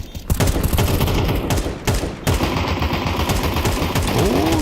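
Sustained gunfire from a Counter-Strike match at IEM Cologne 2025, dense overlapping bursts and rapid shots running throughout, loud and busy, with a couple of sharp cracks standing out.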